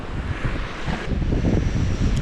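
Sea waves washing against a man-made harbour wall at a beach in Dalyan, Türkiye, a fairly close, uneven churning rush mixed with wind buffeting the microphone.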